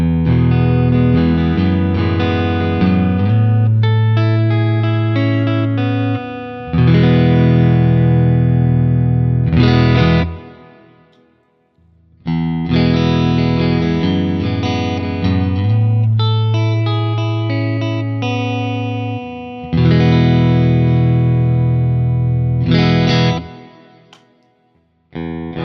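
An offset electric guitar with humbuckers is played through effects with distortion, chorus and reverb, starting on the neck pickup and moving to the bridge, with strummed chords and picked passages in loud phrases and brief pauses.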